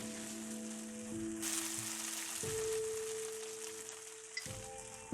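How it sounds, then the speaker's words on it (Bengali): Blended spice paste fries and sizzles in a pan for a Bangladeshi shahi chicken roast, a soft crackling hiss that swells as it is stirred, with faint tonal hum underneath and a brief scrape at the end. "সেটা আমি 1 টেবিল চামচ দিয়ে দিচ্ছি। তারপর আবার নেড়ে দিতে হবে।"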